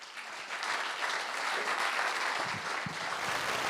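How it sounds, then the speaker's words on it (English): An audience at a Lincolnshire folk music songwriting event gives a round of applause, dense clapping that swells in and holds steady for a few seconds. "Let's give all of them a round of applause"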